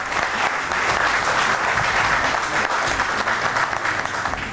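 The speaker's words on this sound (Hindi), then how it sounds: "ढेर सारी तालियां।" An audience at an Eid mushaira poetry show breaks into applause, a loud and continuous clapping that holds steady for several seconds.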